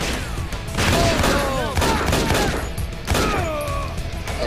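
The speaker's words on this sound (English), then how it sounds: "I'll try shooting" Rapid gunfire bursts from shooting in Infernal Endurance Run against HMS Liberty 2 powerloader minibosses, loud and close with ringing ricochets, in two main volleys with short gaps.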